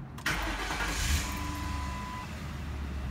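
A 2011 Ford Crown Victoria Police Interceptor engine starts with a sharp catch, then settles into a steady, fairly loud low idle rumble close by, with no talking.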